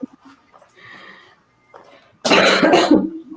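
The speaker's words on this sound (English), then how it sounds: "Did you just cough?" A person coughs loudly and close up in a rough burst after a stretch of quiet room sound with faint murmurs, the cough caused by breakfast of bacon, egg and cheese caught in the throat.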